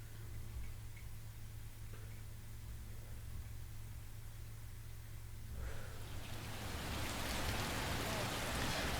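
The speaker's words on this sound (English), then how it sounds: "I never thought I'd see this raining." Steady soft rain hiss in the video game L.A. Noire with a low hum underneath, swelling noticeably louder and brighter partway through as the downpour intensifies.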